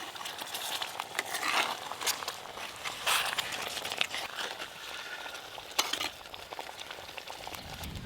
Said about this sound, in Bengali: চাপা খুলে একবার ভালো করে নেড়ে নেব।